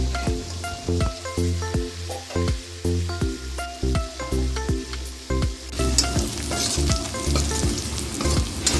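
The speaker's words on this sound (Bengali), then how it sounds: "তো মাছের মাথাটাও এখানে ভাজা হচ্ছে" Fish head frying in oil in a pan, a loud, continuous, crackling sizzle close by with rhythmic stirring scrapes throughout and no voices.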